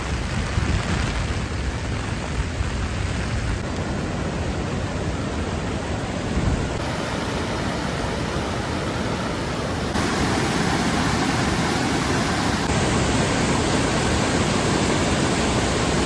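Heavy monsoon rain and a swollen river on the Harishchandragad trek in Maharashtra make a loud, unbroken roar of rushing water and downpour. It holds steady throughout with no voices.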